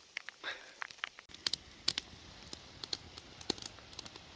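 Hail patters and clicks sparsely on gear and surroundings during a wilderness backpacking trip in Colorado, with irregular sharp ticks near the microphone and a quiet background.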